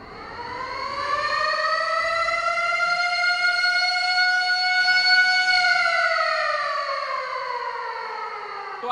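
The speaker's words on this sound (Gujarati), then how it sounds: "ત્યારે કયા પ્રકારનું સાયરન વાગશે તો એ સાયરન પણ હું તમને સંભળાવું છું" A civil defense air raid all-clear siren sounds one long steady tone that swells in slowly, holds loud and even for several seconds, then gradually falls away, with no voices over it.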